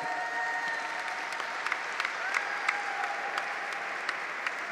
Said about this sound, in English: If you can give a round of applause to the mayor.